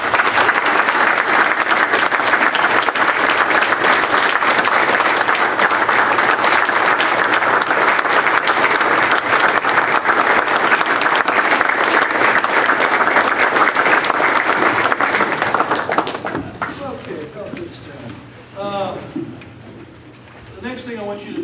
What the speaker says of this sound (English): I want to start off first of all by asking for everybody to join me in a round of